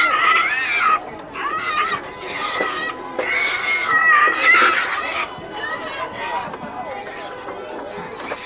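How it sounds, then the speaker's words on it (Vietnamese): Black pigs at a rural highland market in Vietnam feeding and squealing, with repeated high-pitched squeals and grunts up close amid a busy crowd of voices. "Anh đi bán lợn có mang thêm một chút thức ăn đi cho lợn ăn thử các bạn ạ."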